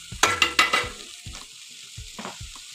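Ginger garlic paste and coconut powder stirred into a sizzling pan of beans curry, several quick close spoon scrapes at first, then softer stirring over a low sizzle.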